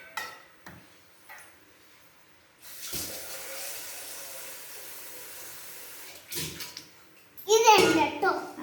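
Water pours steadily into an ice cream mixture for a few seconds at close range, between short bursts of speech and a voice.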